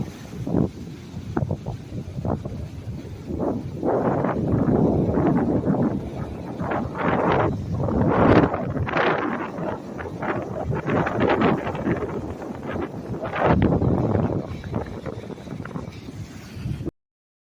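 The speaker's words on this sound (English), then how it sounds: "It was so windy out there" Strong wind buffets the microphone at Ocean Reef beach, a loud and uneven roar that swells in gusts and eases again, with no voices.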